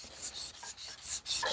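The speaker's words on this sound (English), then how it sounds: "I'm using sandpaper from Vince's Wood Wonders." Sandpaper rubs against a wooden spaghetti server in rhythmic strokes, about seven raspy scratches back and forth, close up and steady.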